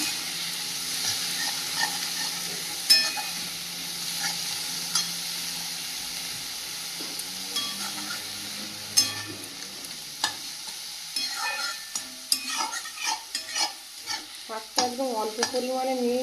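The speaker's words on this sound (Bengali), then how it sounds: "কেটে রাখা ব্রাহ্মী শাকটা দিয়ে দেব আগে থেকে ধুয়ে দিয়ে বেশ কিছুক্ষণ ভেজে নেব শাকটা" Chopped, washed brahmi greens (water hyssop) fry in a pan with a steady hiss and sizzle, spatula stirring and scraping in sharp taps that grow busier toward the end, close by.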